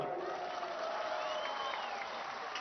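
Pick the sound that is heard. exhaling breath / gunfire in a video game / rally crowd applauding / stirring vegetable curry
rally crowd applauding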